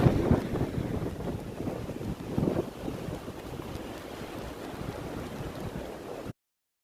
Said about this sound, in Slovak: Ten vietor nie je stále taký silný